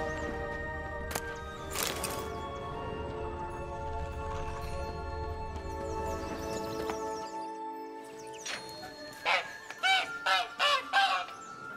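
Goose honking from a cage in The Witcher video game, a run of loud, close, harsh honks clustered near the end over a steady ambient background, with no talk.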